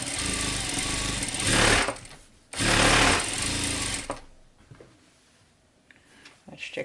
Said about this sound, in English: So for those who sew, you start sewing and you're going to go back a bit to close the stitch.